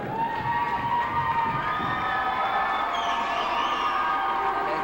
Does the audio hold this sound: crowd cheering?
yes